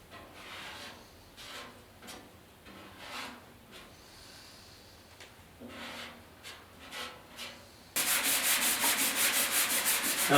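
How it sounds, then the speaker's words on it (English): Glazing putty on a 1956 Mercury front fender being sanded by hand with a sanding block, heard as repeated rubbing strokes in an irregular rhythm, growing steady and louder in the final seconds. "Now sanding this glazing putty is just as easy as it gets, but you still want to use a block."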